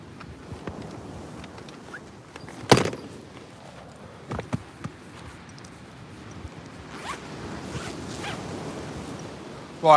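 A small fishing tackle bag on a beach is unzipped, giving a sharp, loud zip rasp near the start, then shorter zipper pulls and rustling handling sounds at close range, with faint surf in the background and no talk.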